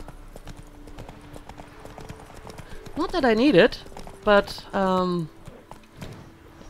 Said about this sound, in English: I can use Axie on a wild horse and then I can actually ride it